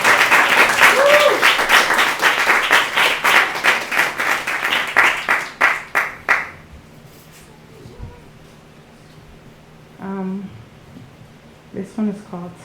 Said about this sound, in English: I give her a round of applause.